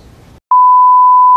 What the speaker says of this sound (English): We might have to beep that. You'll beep that out.